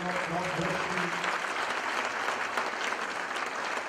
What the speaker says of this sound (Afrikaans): Gee die Here lekker aan die klap.